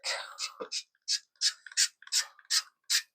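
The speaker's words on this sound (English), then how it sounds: "I am going to spray my springform pan here" Cooking spray is sprayed into a springform pan to grease it for a hash-brown-crusted quiche. About eight short, hissing bursts come in an uneven rhythm, close and fairly quiet, with no talking.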